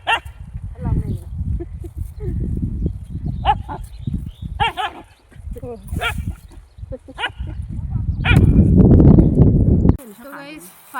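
A dog barks repeatedly in short sharp bursts at a moderate distance, over continuous talking and other background noise, during a garlic harvest on a village farm.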